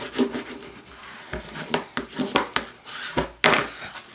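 A tool burnishes the leather edge of a wallet in quick, uneven strokes, giving close, dry rubbing and scraping bursts with short pauses between them.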